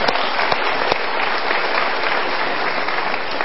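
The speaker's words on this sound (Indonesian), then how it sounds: "kita berikan tepuk tangan" An indoor seminar audience claps steadily in dense, even applause for a participant invited up onto the stage, a sustained, loud ovation with no pauses.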